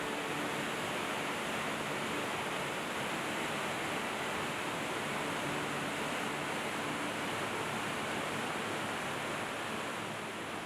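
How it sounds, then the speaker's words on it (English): A rushing underground river in Son Doong Cave roars as a constant broadband wash of water, echoing and unbroken throughout. "The noise of the rushing river echoed throughout the cave."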